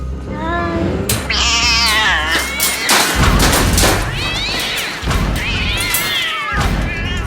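Several cats meow loudly and insistently, with drawn-out, rising and falling cries overlapping one another, close by and almost continuous.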